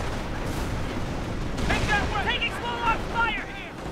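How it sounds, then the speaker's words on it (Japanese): Grenade blast and surrounding gunfire in the World War II strategy game Company of Heroes, Normandy landing at Vierville, a dense rumbling din of booms and shots with battlefield voices calling out midway. "そしてグレネードを投げ込んで制圧です"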